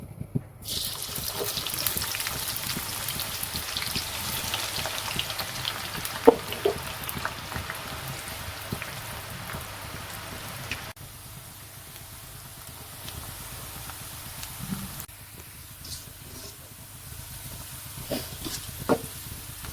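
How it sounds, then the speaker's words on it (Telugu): Onions frying in hot oil for a Sunday chicken biryani, a steady close hiss with dense crackling and spitting that fills the whole stretch, louder at first and then easing to a lower, softer sizzle with occasional pops. "ఆయిల్ వేడిగా అయ్యింది ఉల్లిపాయలు వేసుకున్నాము"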